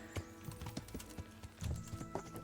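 A horse being ridden in the video game Kingdom Come: Deliverance, its hooves clip-clopping in an uneven rhythm, quiet and fairly close, with no talking.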